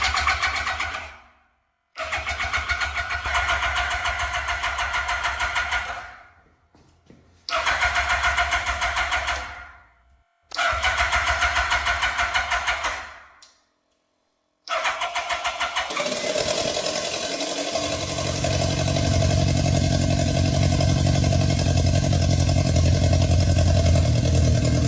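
A restored motorcycle engine cranks in several short bursts separated by silences, then catches and settles into a steady, loud idle that runs to the end.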